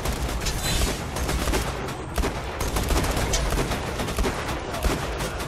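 Dense gunfire in the video game Borderlands 2, including a revolver, loud rapid cracks and booms piling up continuously with no pauses and little else audible.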